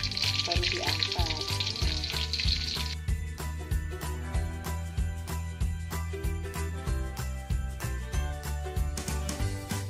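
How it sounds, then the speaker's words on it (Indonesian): Battered tempeh and egg sizzle steadily in hot frying oil, a dense crackle that runs throughout. A brighter hiss opens the first few seconds, and scattered light clinks of utensils sound over a low background hum. "Itu baru siap kita goreng sampai kuning-kuningan, baru diangkat."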